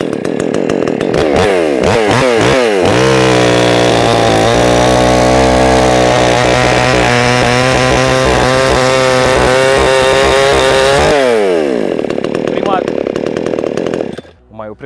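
An Evotools CS 550 3 hp petrol chainsaw revs up and cuts hard through thick logs, its loud, steady high-pitched engine drone under load dropping away near the end.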